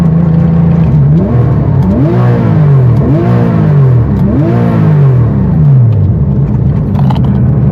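Porsche 911 of the 997 generation with a lightweight flywheel, its engine loudly and closely revving above 3000 RPM in several rising and falling sweeps before settling, with no talk over it.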